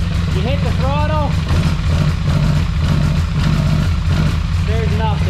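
A Polaris Sportsman 850 XP ATV engine that runs poorly and smokes holds a steady, loud, rough drone throughout, with a person talking over it.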